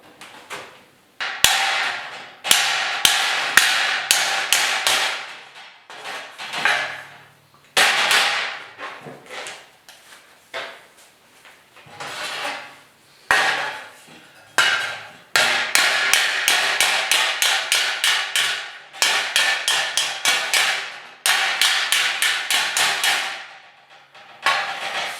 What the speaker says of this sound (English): we'll have to pound out a couple, you know, dents there